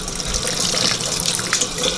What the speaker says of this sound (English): just put it in the sink and run it under some cold water for a little while